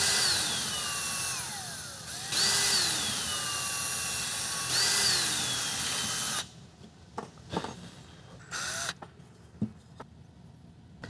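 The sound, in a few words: power drill pre-drilling wood boards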